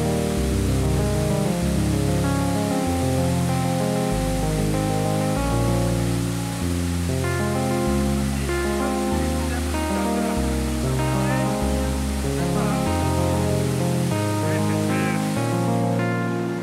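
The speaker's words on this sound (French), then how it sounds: "Nous descendons vers la cascade de Poc Poc." Steady, loud rushing water from the Poc Poc waterfall fills the whole clip, a continuous roar, with a musical soundtrack playing over it.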